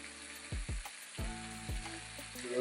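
Honey stirred into chicken wings sizzling in a pan over low-medium heat, heard as a quiet, continuous frying sizzle punctuated by several low knocks and scrapes from the stirring utensil.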